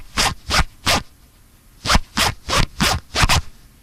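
A clothing zipper zipped near the microphone in eight quick strokes, three, a pause, then five, each a sharp rasping scratch heard alone.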